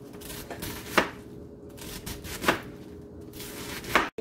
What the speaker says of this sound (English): this is how I'm cutting my cabbage